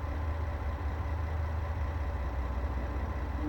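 A Dresden commuter train sits idling in Train Sim World 2, its low steady engine drone holding constant and unbroken throughout, with no voices over it.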